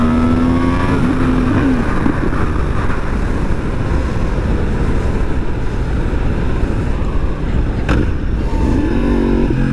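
A motorcycle engine runs continuously while circling a roundabout, a loud close drone with wind roar, shifting pitch as the rider rolls on and off the throttle, no voices.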